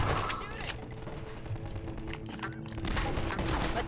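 Sustained gunfire in Half-Life 2: Episode Two, a dense fusillade of overlapping shots from surrounding enemies keeping up a steady barrage, mixed with in-game combat noise and voices.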